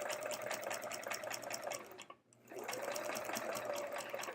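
A sewing machine runs steadily, stitching a quilt seam with metallic thread, then stops briefly midway before resuming its fast, even whirring rhythm up close.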